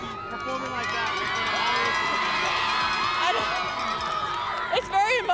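Large crowd at a prep rally cheering and shouting continuously, loud and dense throughout, with whoops and voices mixed in and a few sharper shouts near the end.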